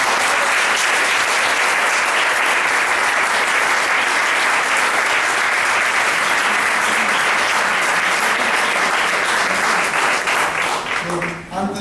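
Audience at a talk about the refugee crisis breaks into long, loud, sustained applause, dense even clapping filling the room for about eleven seconds before fading out abruptly at the end.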